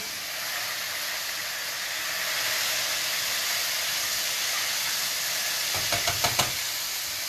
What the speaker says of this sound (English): It takes literally minutes to fry.